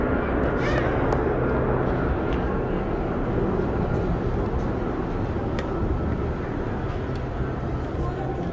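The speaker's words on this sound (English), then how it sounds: "It's an LAPD helicopter." A continuous low rumbling roar holds steady throughout from an LAPD police helicopter hovering overhead near Universal Studios Hollywood, with no other sounds breaking through.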